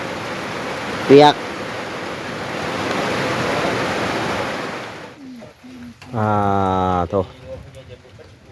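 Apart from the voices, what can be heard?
rain falling heavily outdoors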